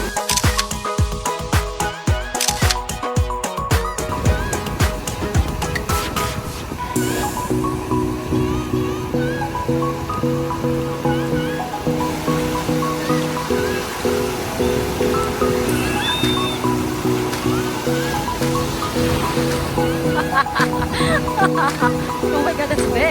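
Big ocean waves break and wash continuously on a beach at Cape May, New Jersey, loud and close, with a steady roar throughout and some voices and laughter faintly mixed in.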